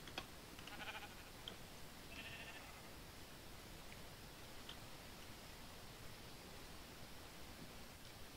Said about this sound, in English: there's four sheep and there's a grey one